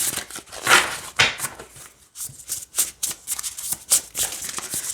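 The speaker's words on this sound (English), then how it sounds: "I do not have a problem with how this shuffles at all." Oracle cards with a matte, non-gloss finish are shuffled by hand up close, giving soft irregular riffling and papery slaps in uneven bursts with brief pauses between them.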